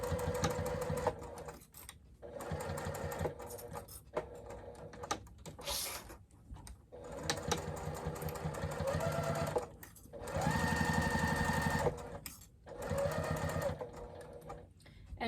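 A sewing machine stitches a seam on a crossbody bag in bursts of rapid mechanical clatter, stopping and restarting several times with short pauses between runs, heard up close.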